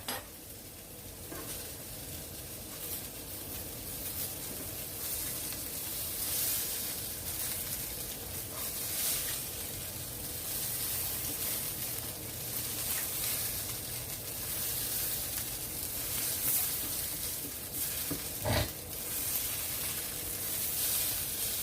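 Corned beef hash cooking in a pan, giving a steady broad sizzle with occasional soft stirring scrapes throughout, close and constant without talk.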